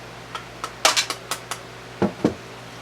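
A metal bullet-casting pot is handled, giving a series of sharp metallic knocks and clinks, some doubled, spaced irregularly across a few seconds, close by and without speech.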